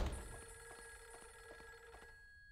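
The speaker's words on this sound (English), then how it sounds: "It must be a really important phone call." A telephone rings in the horror video game Fatal Frame 3: The Tormented, its bell repeating in short regular pulses over a steady electronic hum before cutting out near the end, heard alone with no talk.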